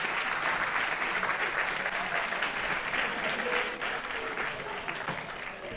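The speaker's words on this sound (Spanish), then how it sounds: "Así que un aplauso." Audience applause after a team wins a game at a talk on gamification and serious games, a steady dense wash of clapping holding for several seconds and easing slightly toward the end, with faint voices underneath.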